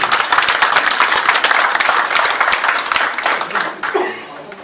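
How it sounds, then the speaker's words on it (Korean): Delegates at a regional amateur radio league general assembly in Daegu clapping loudly in a dense sustained round of applause with a little laughter mixed in, tapering off toward the end as a voice begins speaking. "큰 박수로 이래 한번 쳐주시기 바랍니다"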